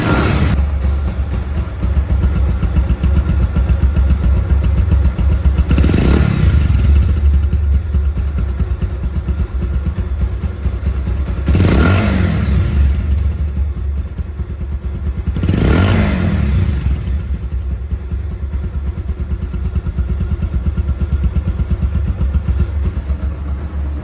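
A second-hand Bajaj Pulsar One Disk motorcycle runs close by after a self-start, a steady loud engine drone broken by three short revs.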